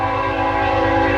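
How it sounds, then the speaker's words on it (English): A passing train sounds its horn in a loud, sustained, steady blast of layered tones over the low rumble of the rail cars, filling the whole moment with no talking. "Sorry about the train."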